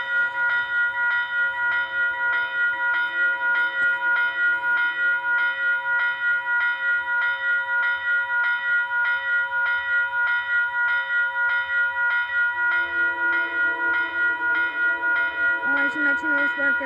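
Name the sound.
train passing by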